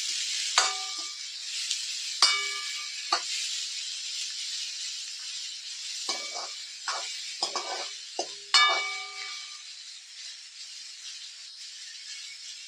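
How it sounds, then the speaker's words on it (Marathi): Onion fries and browns in a pan for dhaba-style dal tadka, a quiet steady sizzle broken by scattered sharp clinks of a spoon against the pan. "कांदा आपल्याला थोडासा ब्राऊन होऊन द्यायचा."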